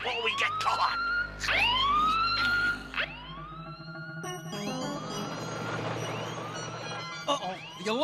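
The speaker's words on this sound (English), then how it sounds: "the alarm's been set off" A cartoon alarm siren wails in rising and falling sweeps during a diamond heist, loud and repeated, with a bassy rumble beneath and more sirens layered in later.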